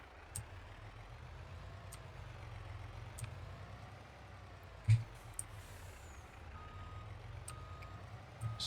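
A truck in Farming Simulator 22 backs up to hitch a trailer, its reversing beeper pulsing at a regular rhythm over a low idling engine, fairly quiet with a few clicks and one louder clunk.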